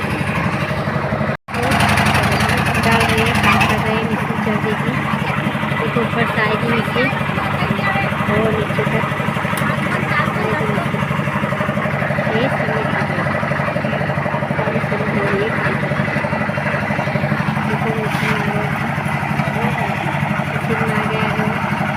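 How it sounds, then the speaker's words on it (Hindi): A tractor engine runs steadily at a construction site while soil is unloaded, a loud, continuous mid-pitched chug with a brief sharp break near the start, and a person talks over it throughout. "ट्रैक्टर आया हुआ है, उसमें डाल रहे हैं ट्रैक्टर मिट्टी का ही।"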